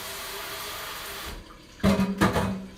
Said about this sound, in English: Let me put this in the sink. Actually, let me rinse that off.